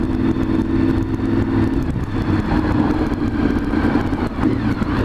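Vehicle engine revving in neutral, a loud continuous rumbling drone up close with slight swells in pitch, steady for several seconds.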